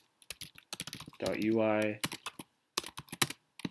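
Close computer keyboard typing in quick bursts of clicks, broken by a short spoken phrase in the middle and resuming afterward.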